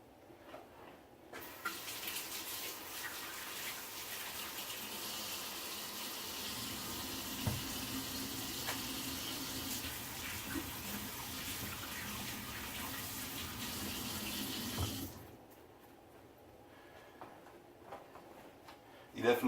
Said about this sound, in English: always wash your hands afterwards